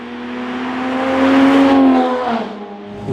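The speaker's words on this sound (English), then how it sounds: "Like the exhaust isn't droning. It's got a nice tone to it" A 700hp built Toyota Supra engine idling and revving with a smooth, steady exhaust tone that swells and eases off once, close and loud with no voices.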